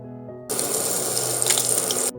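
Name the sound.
chilies sizzling as they are added to the pan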